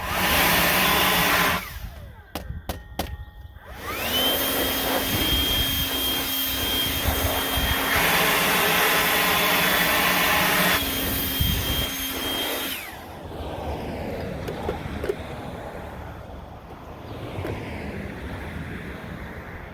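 Compressed air blasts dirt out of a dirty outer air filter during a grease job, a loud steady hissing roar lasting about nine seconds, preceded by brief bursts and followed by quieter rushing noise.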